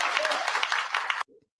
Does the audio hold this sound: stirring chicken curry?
no